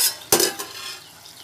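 Seeramenu fish curry cooks in a pan on medium heat as a spoon scrapes and stirs, one sharp clatter followed by a softer knock and a fading sizzle.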